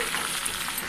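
Dried red chillies fry in hot tempering oil for gongura chutney, a brief, even hiss of sizzling heard up close.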